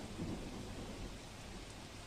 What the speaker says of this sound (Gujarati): બે દિવસથી વરસાદ આવતા ખેડૂતોને રાહત મળી છે